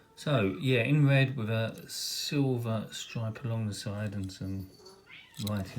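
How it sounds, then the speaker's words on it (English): A house cat meows loudly and repeatedly in long, wailing calls, close by, over someone talking steadily about a toy car. "Sorry about the cat going bananas"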